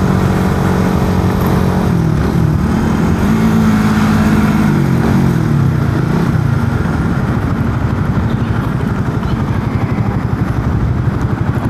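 A Suzuki Satria FU motorcycle engine drones steadily and loudly while riding, its pitch shifting as the bike slows toward a stop, continuous and close with no talking.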